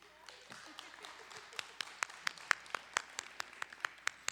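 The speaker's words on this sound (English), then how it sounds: "you can give us a clap for that" Audience clapping at a school meeting, starting scattered and sparse, then settling into a steadier rhythm of distinct, fairly sharp claps from a modest group, moderately quiet in a room.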